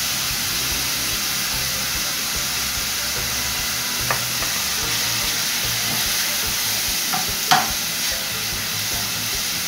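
Curry powder with finely chopped onion frying in a pan, a steady broadband sizzle and hiss throughout with a few faint scrapes and one sharper clink near the end, no voices.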